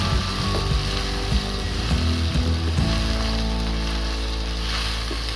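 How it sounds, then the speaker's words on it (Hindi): Potato and eggplant with turmeric frying and being stirred in a pan, a steady sizzle with a low hum and a few knocks of the spoon, close and without voices. "यहाँ अब हम इन्हें अच्छे से मिक्स कर देंगे और पकाएंगे"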